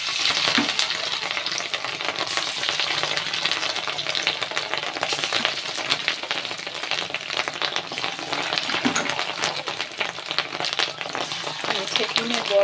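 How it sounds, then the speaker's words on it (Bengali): Small fish roe fritters fry in hot oil with a steady, crackling sizzle that never lets up, dense with tiny pops and spatters throughout, heard up close. "তেল আমার গরম হয়ে গেছে, এবার আমি বড়াগুলো ছোটো ছোটো করে সুন্দর করে ভেজে নেব।"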